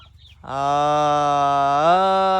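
A large cow gives one loud, sustained moo close to the microphone, starting about half a second in and holding steady to the end with no talk over it.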